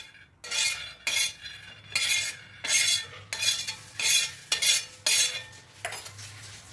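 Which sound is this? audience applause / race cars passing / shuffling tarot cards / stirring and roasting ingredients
stirring and roasting ingredients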